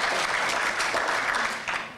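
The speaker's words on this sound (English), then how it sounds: "go ahead, you can applaud" Applause from an audience at a nuclear policy forum, a steady, dense wash of clapping that fills the whole stretch at close, loud level and eases slightly at the end.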